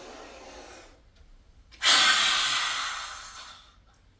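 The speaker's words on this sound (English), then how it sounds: "Again, take a deep breath in." A deep breath drawn in as part of a movement practice, taken while bent forward holding the legs, a loud airy inhale lasting about two seconds and slowly fading, alone with no talk.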